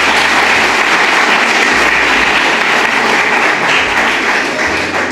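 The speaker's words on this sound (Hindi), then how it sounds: "एक बार जोरदार तालियां बजाइए" An audience claps steadily and loudly throughout, a dense sustained round of applause with no talking over it.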